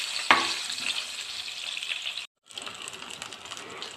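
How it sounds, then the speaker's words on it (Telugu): Cut eggplant pieces with a little turmeric deep-frying in hot oil, a steady loud hiss and crackle with a sharp splash near the start and a brief break before the sizzle resumes. "ఇలా కొంచెం డీప్ ఫ్రై చేసుకోవాలి."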